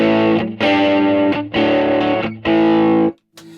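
Distorted electric guitar through a Blunt Instrument VS-20C Red Devil practice amp rings out in three loud sustained chords, each cut off by a brief gap, with a short quiet tail at the end.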